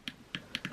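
L1 shoulder button on an Evercade EXP Founders Edition handheld pressed four times, each a crisp, close, faint plastic click in quick succession.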